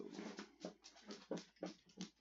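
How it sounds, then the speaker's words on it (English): Dog in a graveyard-keeper video game, a series of short soft whimpering yelps in quick bursts, faint and alone. "my dog's bouncing in"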